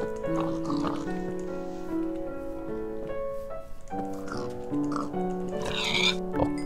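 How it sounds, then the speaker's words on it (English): A pig in the Minecraft video game gives a few short grunting oinks over steady background game music. "Come back here, you pig."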